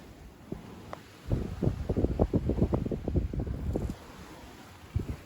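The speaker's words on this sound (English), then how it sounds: "We have got 10 knots of breeze" Wind in about ten knots of breeze while a sailboat was under way buffeted the microphone in a loud, gusty series of rumbling thumps, then eased to a steadier hiss.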